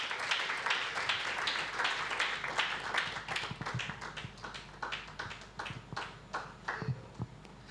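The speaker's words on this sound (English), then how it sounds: "A massive round of applause for Dr. Dennis Sempebwa" Audience at a summit session applauding a keynote speaker, loud sustained clapping from a large room that gradually thins into fewer, sharper individual claps toward the end.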